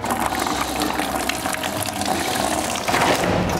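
Coolant water draining from a car's cooling system in a performance garage during a turbo replacement: a continuous splashing, gushing pour, fairly close and steady, briefly swelling near the end.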